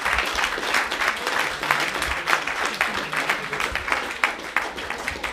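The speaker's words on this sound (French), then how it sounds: "on peut encore l'applaudir" Sustained audience applause after a speaker at a business talk, a dense and even patter of many hands at moderate loudness, with no voices on top.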